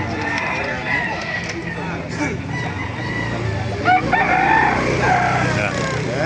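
Chickens and roosters at a poultry market in Baliuag, Bulacan cluck and crow over a constant crowd din, with people talking nearby.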